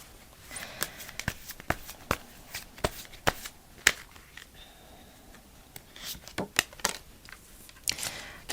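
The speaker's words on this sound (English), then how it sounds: "So let's pull a few more cards." Tarot cards shuffled and riffled in a quiet room: a run of crisp snapping flicks and papery slides, mid-loud and close, with brief pauses and a denser burst toward the end.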